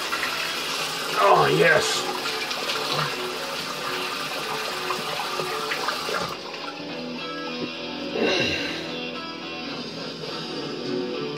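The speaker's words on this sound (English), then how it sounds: "Now we're gonna rinse, do second pass." Water runs steadily from a tap for a rinse between passes of a wet shave, a close continuous splash with a few brief louder gushes and someone saying a couple of words.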